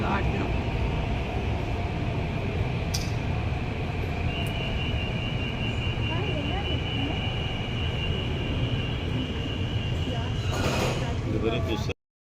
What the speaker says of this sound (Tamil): ட்ரெயினும் வந்துருச்சு.